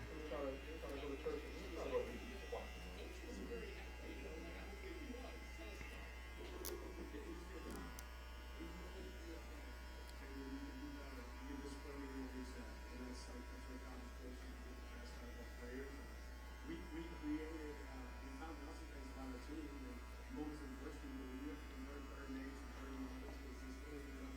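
Electric hair clippers buzz steadily and faintly throughout a low shadow fade haircut, a constant low hum with small variations as the blade moves close to the skin, while a barber talks over it.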